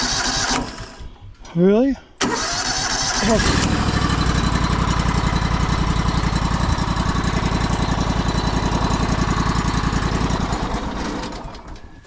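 A sawmill engine is pulled over and catches, then runs steadily with a loud, close, continuous rattling drone; a brief spoken exclamation comes just before it starts.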